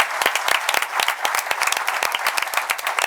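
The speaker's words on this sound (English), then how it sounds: "Give Christopher a round of applause" An audience at a town board meeting claps in a dense, steady round of applause honoring an investigator, many hands overlapping close by for the full stretch.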